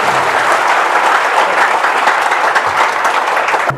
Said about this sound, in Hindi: तो एक बार सारे एनडीए एस्पिरेंट के लिए जोरदार ताली हो जाए भाई।